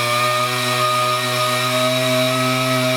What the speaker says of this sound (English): this is a job for the power sander